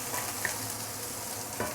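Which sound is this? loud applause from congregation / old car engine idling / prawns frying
prawns frying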